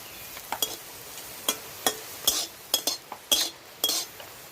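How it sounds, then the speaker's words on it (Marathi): Thinly sliced onion stirred in oil in a kadhai: about a dozen crisp, irregular spatula scrapes and clinks against the metal, close and sharp, over a faint, steady sizzle. "आता थोडंसं मी तेल घालते कांदा भाजायला"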